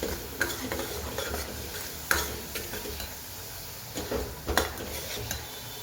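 Chole masala being stirred into a pan while making chole, with a spoon scraping and tapping the pan in irregular strokes and a faint sizzle underneath, close and moderately quiet.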